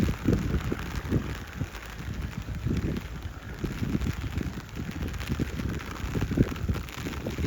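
Rain falling during an evening journey on a Thai passenger train, train 556, halted partway along its route: a continuous broadband hiss with irregular low rumbling underneath and no voices.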